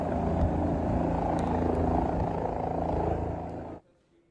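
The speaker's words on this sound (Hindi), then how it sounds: "यही वजह है कि हेलीकॉप्टर से रेस्क्यू ऑपरेशन किया जा रहा है।" Rescue helicopter flying over flood-hit Nepal, a loud steady rotor and engine roar close by that cuts off abruptly near the end.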